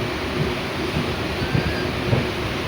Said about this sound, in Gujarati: આ ગાડી એવી છે, બધે ઊભી રહેતી જશે. બધા સ્ટેશન લે છે, મેમું છે.